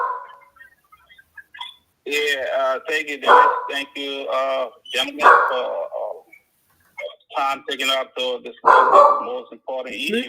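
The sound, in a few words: dog barking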